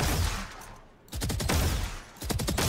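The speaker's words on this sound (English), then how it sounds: "So let's hit these first couple bullets" Rifle gunfire from the Valorant shooter game rings out in sharp, rapid bursts of close shots, with a short pause between two volleys.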